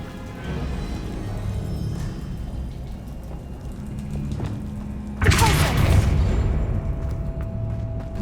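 Hogwarts Legacy spell blasts such as Confringo and Bombarda go off in a magical duel. Low rumbling and thuds build into one loud, sudden burst that trails off into a lingering hum.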